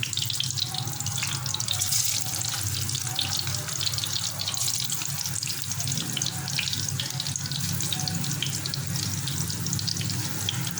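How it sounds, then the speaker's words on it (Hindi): Besan khandliyan frying lightly in a little oil in a frying pan, giving a steady, even sizzle that runs unbroken throughout with no talking. "आप इसको हल्का हल्का सा फ्राई कर लें"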